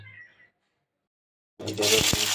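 Garlic frying in a pan on a stove for a mashed-potato bhorta; after a quiet gap, a sudden loud hissing sizzle bursts in and holds steady to the end.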